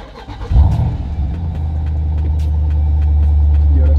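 A Jeep SRT with both mufflers deleted starts up with a loud crank and burst, then settles into a deep, steady rumbling idle close by.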